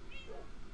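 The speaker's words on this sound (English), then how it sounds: "Someone left their cat here." A cat meows once in a Minecraft server game, a soft, brief mew that sits at moderate level over steady game background noise.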